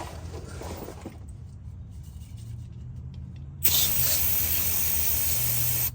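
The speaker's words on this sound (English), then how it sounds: "I'm just going to spray parts cleaner on there, get it good and cleaned up" An aerosol can of parts cleaner sprays in a hissing stream on a 6.0 Powerstroke fuel filter housing, briefly pausing before a louder, sharper burst of spray, close by, with a low engine-like rumble underneath.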